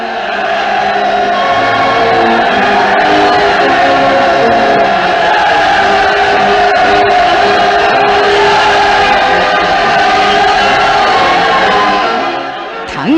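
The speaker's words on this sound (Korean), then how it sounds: "내가 연단에 나설 때 군중들의 함성과 환호성은 고조에 달하였습니다." A huge open-air crowd of some 400,000 people roars, shouts and cheers continuously in a dense, loud wash of voices that holds steady for the whole stretch before easing off briefly at the end.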